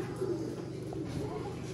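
Sialkoti pigeons coo softly in a loft, a low repeated throaty murmur heard up close and steady through the brief moment.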